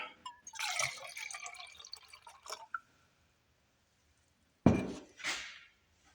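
Water is poured from a container into a small 600 ml camping cooking pot, a burst of splashing and trickling near the microphone with clinking of metal, then a pause before a second short splash.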